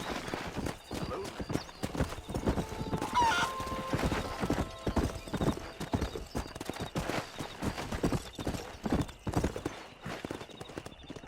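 Galloping horse hooves in the Red Dead Redemption video game, rapid rhythmic clip-clop up close with a whinny early on, while speech is heard over it.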